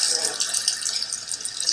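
Tap water runs steadily into a sink for hand washing in a Dutch home, giving a bright, continuous hiss with small splashing fluctuations that lasts under two seconds.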